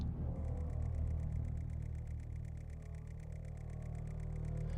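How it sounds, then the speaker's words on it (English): Game crouch effect built from a sped-up clock treated with delay, pitch modulation and feedback: rapid, even ticking pulses repeating over a thick low humming bed, steady and continuous throughout. "This is the sound of a clock sped up with delay on it, and I think a bit of pitch modulation"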